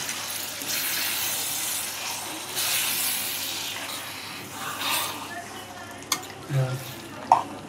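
Chicken cooking in its own juices without added water, being stirred in a pan: a continuous sizzle and hiss with scraping stirs, a few sharper clinks of the spoon near the end.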